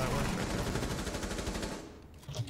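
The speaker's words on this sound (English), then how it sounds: "Oh, I'm getting shot!" Rapid automatic gunfire from Rainbow Six Siege, loud dense bursts for about two seconds that then drop away, leaving a brief quieter moment with a small thump near the end.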